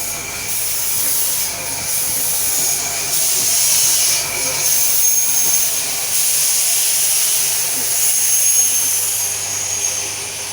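A steam locomotive on the West Coast Wilderness Railway reverses, giving off a loud, continuous hiss of steam with a steady mechanical rumble underneath and no pause throughout.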